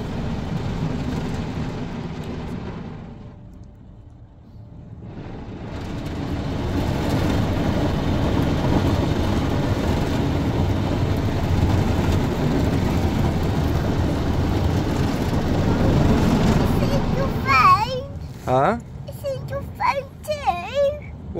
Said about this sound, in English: It's cleaning the back of the car now.